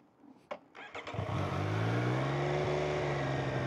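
A Triumph Street Triple 765 RS motorcycle with a 765 cc three-cylinder engine gives a few clicks and a starter whir before firing up, then settles into a loud, steady idle close by, with no talking.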